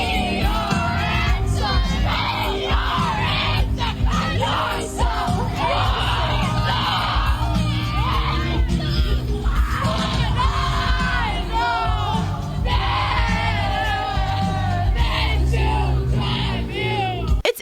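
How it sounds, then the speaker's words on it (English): Loud concert crowd screaming and yelling nonstop, a dense wall of high shrieks and whoops from many fans that surges in waves across the whole stretch. "So realistically, this person's screaming their head off,"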